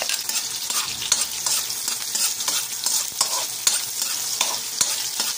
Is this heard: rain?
no